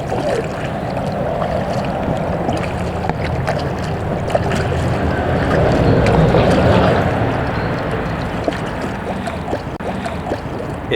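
Steady roar of traffic on a main road running beside a canal near Whaley Bridge, heard from a paddled boat, with a loud, continuous wash of noise that swells briefly midway.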